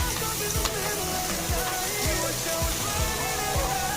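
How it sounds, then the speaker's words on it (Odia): Chopped onions sizzle in hot oil in a pan with cumin and green chillies, a steady close frying hiss with faint crackles running the whole time, no one talking. "ଆମେ ଚପ୍ ପିଆଜ ଭଲ ପ୍ରଥମେ ଟିକେ ମିଶେଇକି ସେ ଗୋଲ୍ଡେନ୍ ହେଲା ପର୍ଯ୍ୟନ୍ତ ଭାଜିବା"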